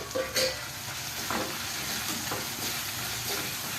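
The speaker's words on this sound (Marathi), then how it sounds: "अजून 1-2 मिनटं मी चांगलं शिजवून घेते. कांदा टॅमॅटो चांगला शिजलेला." Onion and tomato sizzle and fry steadily in a pan while being cooked for an eggplant bharta, with a few stirring scrapes over the continuous hiss.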